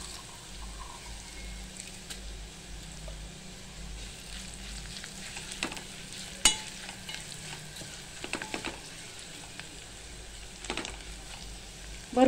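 Ginger and garlic sauté gently in a pan for mixed dal khichdi, a faint, even frying hiss with scattered soft clicks of stirring and a single louder knock partway through.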